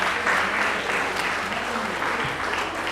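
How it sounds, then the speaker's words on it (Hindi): An audience applauds energetically at the opening of a dance championship in Meerut, a continuous, even roar of many hands clapping with a faint voice beneath. "तालियां बजाइए जोरदार।"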